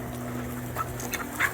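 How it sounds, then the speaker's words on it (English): Farm chickens cluck and squawk in a short burst among other fowl such as turkeys and guinea fowl, a few calls rising near the end over steady background noise. "These are Dragon's chickens, everybody"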